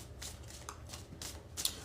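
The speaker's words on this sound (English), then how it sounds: "We're going to do 3 more shuffles and then start this reading." Tarot cards are shuffled close up in a quick series of soft riffling bursts, faint and without talk.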